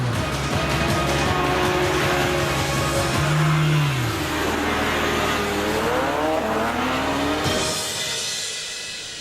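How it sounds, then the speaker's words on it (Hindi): A car driving fast with the engine revving hard, a loud sustained roar with rising and falling pitch sweeps, fading away toward the end. "मानव, और तेज चलाओ, और तेज"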